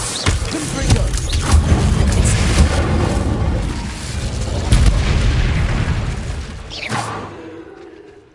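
Confringo explosive spell blast in Hogwarts Legacy, a loud booming detonation with rumbling low-end that rolls on for several seconds, then a sharp second crack near the end before fading.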